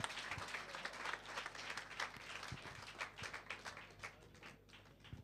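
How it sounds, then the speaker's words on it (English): A church congregation claps its hands during a Sunday service, a faint, distant patter of many hands held steady for several seconds with scattered sharper claps. "Clap your hands and tell him thank you."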